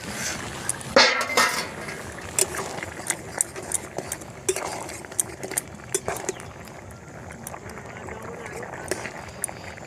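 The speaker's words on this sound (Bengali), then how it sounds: "একটা ডাল গলানোর সাহায্যে একটু ঘেঁটে দিয়ে মোটামুটি একটু মাখা মাখা করছি" Chicken ghugni is worked in a pot with a dal masher, making repeated metallic clinks and scrapes that come close and uneven beneath a person's talk.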